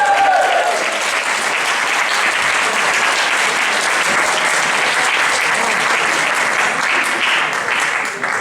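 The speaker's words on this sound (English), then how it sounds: "Can we please give a massive cheer for Nick Denman?" Loud, sustained applause from a large audience welcoming a speaker on stage, dense clapping filling the room for about eight seconds before tapering slightly at the end.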